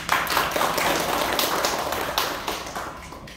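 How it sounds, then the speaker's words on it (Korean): An audience at a founding general meeting of a Korean nonprofit association claps steadily, a dense wash of applause from a roomful of people, lively at first and gradually thinning out. "이 먼 길 올라오신 우리 간영주 이사님께 박수 한번 드립니다"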